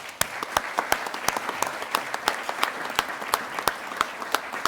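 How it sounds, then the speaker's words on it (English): Steady applause from a crowd at a Hall of Fame ceremony, many hands clapping continuously with sharp individual claps standing out throughout. "So big round of applause for these guys."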